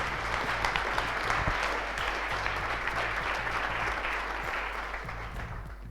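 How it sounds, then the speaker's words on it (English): Hackathon audience applauding after seventeen teams presented prototypes, sustained dense clapping from a crowd that holds steady, then thins slightly toward the end. "Please give yourselves a huge applause for that"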